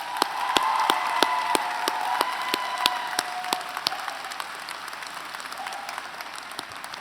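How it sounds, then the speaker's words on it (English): Applause from the audience at a university convocation ceremony in Kingston, sustained moderate clapping with sharp individual claps standing out near the microphone, slowly thinning toward the end. "please, big round of applause"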